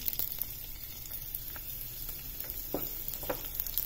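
Cumin seeds and garlic hit hot oil in a pan for a beetroot-leaf sabji and sizzle quietly, a soft steady frying hiss punctuated by a few small pops and crackles.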